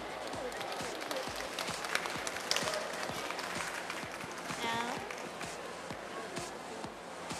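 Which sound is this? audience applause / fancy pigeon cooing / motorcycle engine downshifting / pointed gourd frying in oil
audience applause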